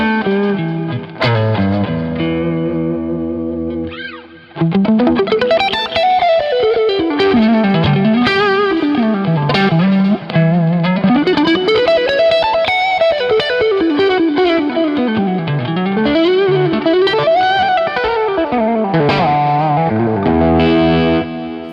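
Electric guitar played through a Two Notes Genome Vox-style preset with boosted high end, a dynamic, lightly driven tone with chorus-like shimmer; sustained chords give way to a sweeping, rising and falling lead line, loud and alone.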